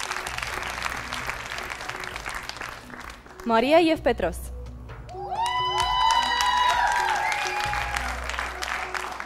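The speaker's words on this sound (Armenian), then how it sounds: "Ծափահարում ենք։" Studio audience on an Armenian televised talent show gala breaks into sustained applause and some cheering, loud and continuous, while a host speaks and brief musical tones ring out.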